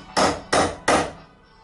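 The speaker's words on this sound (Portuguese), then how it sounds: "Martelei." Three sharp hammer blows strike a screw set on a Solex 40 carburettor part from a Chevette competition engine, evenly spaced and close, each ringing out briefly before fading, with no talk.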